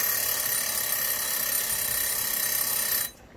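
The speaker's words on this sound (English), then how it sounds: "Yeah, that was the timer." A kitchen timer rings while risotto cooks, a continuous bright electronic ringing tone that holds steadily for about three seconds and then cuts off abruptly into near silence.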